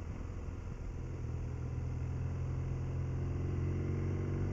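A motorcycle engine creeping uphill in third gear at low revs, a steady close drone whose pitch climbs slowly as it pulls.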